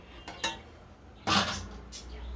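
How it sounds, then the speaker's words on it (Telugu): A metal lid clanks as it is lifted off a pot of boiling dal for sambar, a short clatter of cookware after a couple of lighter taps. "మూత తీసుకుందామండి."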